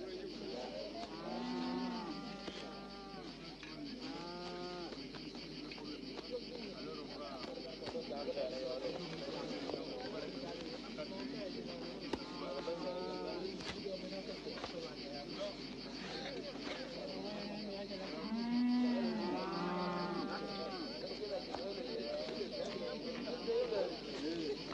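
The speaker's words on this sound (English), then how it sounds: "A Mundari herdsman treats his cattle like full-fledged members of his family." Cattle of a Mundari herd in South Sudan lowing repeatedly, several drawn-out moos from different animals near and far over a steady outdoor hum, with speech in the background.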